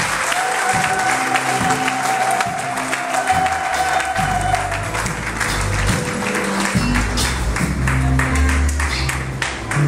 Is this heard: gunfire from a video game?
no